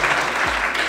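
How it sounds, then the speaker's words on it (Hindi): Audience applause at a youth awards conference, a dense, steady patter of many hands clapping throughout the short stretch with no voices on top. "ये तालियां बहुत ज़रूरी हैं"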